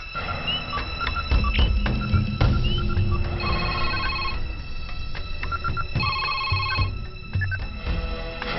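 A telephone bell rings repeatedly in bursts in a film scene, loud and close, over a busy background with some low rumbling.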